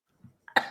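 A single sharp, close cough bursts out after a brief low throat rumble, loud and harsh, with no talking around it.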